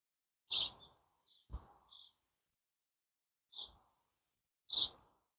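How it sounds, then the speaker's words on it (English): A few short, sharp bird chirps spaced irregularly, fairly close and clear against a quiet background. "I'm just going to sit here and listen to the buzzing and the tweeting"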